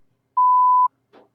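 A single steady electronic beep of about half a second, clean and alone in silence, followed by a brief faint rustle.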